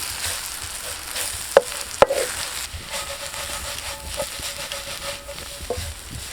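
Coriander, masala and pepper powders roast in a pan for beef pepper roast, sending up a soft, continuous sizzle broken by a few sharp clacks of a spoon against the pan.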